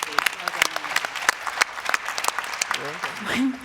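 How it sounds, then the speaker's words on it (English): Applause from the audience at a FIFA women's football convention, a short burst of clapping with a voice speaking and laughter mixed in near the end. "round of applause for that, everyone"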